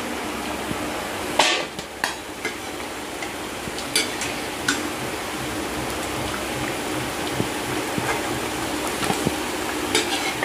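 Biscuits frying in hot oil, a steady bubbling sizzle with scattered utensil taps and clicks as they are turned, close and continuous for about ten seconds.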